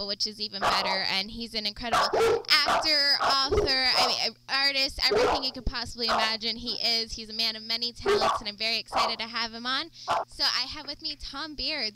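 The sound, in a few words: dogs barking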